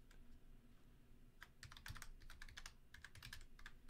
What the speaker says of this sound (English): I'm just typing so fast.